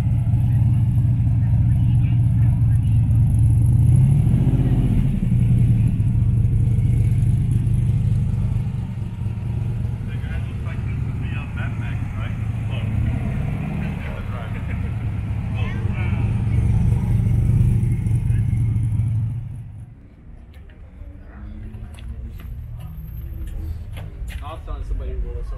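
A Pagani Zonda's engine rumbles deep and steady at a Malibu Cars and Coffee meet, swelling slightly at times for about twenty seconds before dropping away to quieter crowd ambience.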